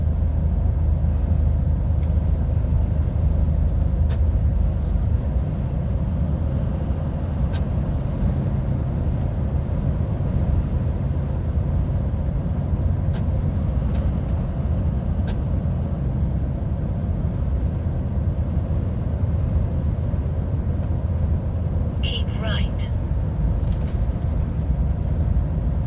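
An HGV lorry, a 72-plate wagon, driving on the road near East Kilbride, Scotland: a steady low engine and road rumble from inside the cab, continuous and even, with a few faint clicks and rattles.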